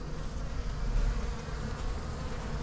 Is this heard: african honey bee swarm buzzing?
yes